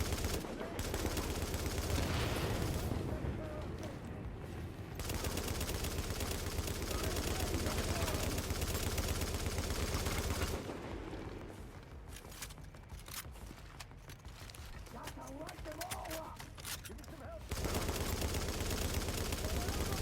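Enemy gunfire in The Division survival mode, rapid bursts of shots sustained and fairly loud, dropping away for a few seconds midway before resuming, with a voice talking faintly over parts of it.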